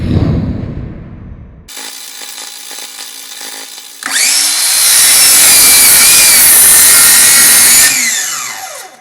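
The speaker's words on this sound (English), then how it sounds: "I just got this miter saw a couple of weeks ago" Miter saw cutting a dado notch into wood, starting with a short clunk, then a steady motor whine that rises into a loud, sustained screaming cut lasting several seconds before spinning down.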